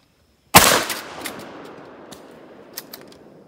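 A single loud shotgun blast from a 3-ounce load goes off sharply, then its report rolls away into a long fading echo with a few faint clicks and knocks afterward.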